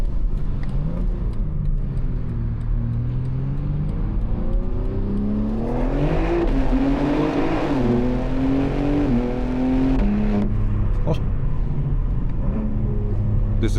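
A BMW M3 Touring G81 with a single midpipe exhaust accelerating through gear shifts, engine pitch rising and dropping with each change, heard steadily from inside the car.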